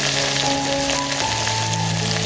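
Finely chopped onion hisses and crackles loudly in hot oil, a dense, steady sizzle with a soft tonal hum running beneath it.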